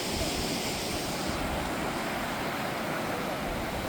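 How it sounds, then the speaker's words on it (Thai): Floodwater streams steadily past a flooded house in Laos, a continuous broadband rushing wash close to the microphone with no breaks and no talk over it. "สามารถสังเกตเห็นว่าน้ำนี้ยังมีการไหลอยู่ตลอด"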